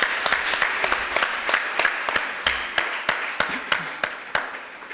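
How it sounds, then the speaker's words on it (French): An audience gives light, scattered applause in a room, with a steady patter of claps and sharp individual hand claps standing out for several seconds. "Est-ce que vous pouvez peut-être applaudir quand même?"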